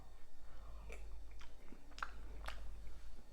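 Soft chewing and wet biting while tasting khanom jeen rice noodles in beef curry with blanched Vietnamese pork sausage, a few close, distinct crunchy-squishy bites spread over a few seconds, with quiet room noise beneath.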